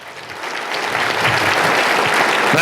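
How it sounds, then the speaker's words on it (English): Audience at a cattle marketing hall of fame ceremony breaking into applause for military veterans, dense clapping that swells and grows steadily louder, close and full with no speech over it. "Let's give them all a round of applause."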